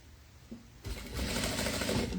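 A sewing machine stitches boning onto a wedding gown, starting after a brief click and then running as a steady, close whirring hum for a couple of seconds.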